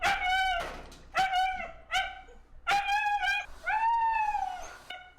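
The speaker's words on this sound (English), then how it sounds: "she wants to maximize her barks per minute" Luna, a husky, lets out a run of loud, close, drawn-out howling barks in quick succession, each one a strong tonal yowl with brief gaps between.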